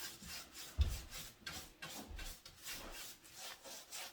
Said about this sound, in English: So you'll be sanding in between coats